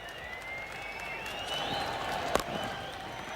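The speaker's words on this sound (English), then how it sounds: "The crowd rising twice in 2 balls in succession to salute a 50." Cricket crowd at the SCG applauding a batsman reaching fifty during a 1992-93 Australia versus Pakistan one-day match, a steady wash of distant clapping and murmur with one sharp clap standing out near the end.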